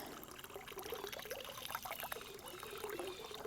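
Water gushes steadily out of a homemade soft-copper pool heater, a close, continuous splashing trickle into the pool with no pauses.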